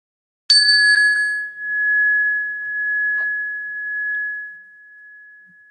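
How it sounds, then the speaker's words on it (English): A single meditation bell is struck once, a clear bright ring that lingers and slowly fades over several seconds in silence. "inviting attention to the sound of the bell"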